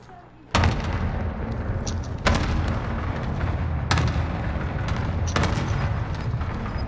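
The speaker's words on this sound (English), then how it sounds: "Allied cluster strike inbound." Cluster strike explosions in Call of Duty: Modern Warfare multiplayer, four loud heavy booms landing in sequence at roughly one-and-a-half-second intervals over continuous rumbling battle noise.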